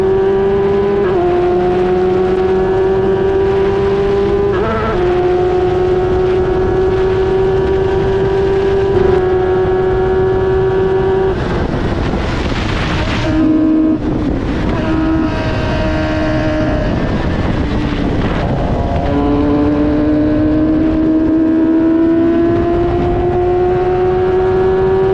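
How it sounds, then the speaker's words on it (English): F1000 race car pulling through low-speed corners at Silverstone GP, a loud, close engine note climbing steadily in pitch, dropping briefly on each shift or lift, then climbing again, with no voices. "A good example here of the power of the F1000 in low speed corners."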